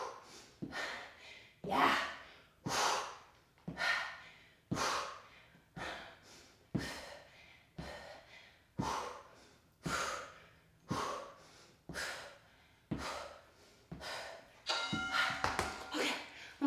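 Heavy breathing during a high-intensity cardio workout comes close and loud as forceful rhythmic exhales, roughly one each second, with a few thumps near the end.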